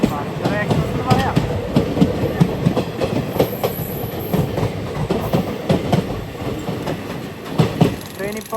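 Saraighat Express, a sleeper-class train on the Kolkata to Guwahati route, running on rails near Murshidabad Junction; loud, continuous rumble from inside with rhythmic clickety-clack of wheels over rail joints and no voices.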